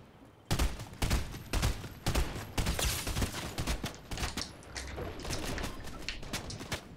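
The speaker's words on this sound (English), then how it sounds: "You're shooting from over here now" Sustained Fortnite gunfire made of repeated sharp shots in quick irregular bursts, loud and close, continuing for several seconds with little pause.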